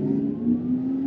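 A car accelerating hard gives a brief, fairly loud burst of engine whine, its pitch rising slightly over about a second, with no voices.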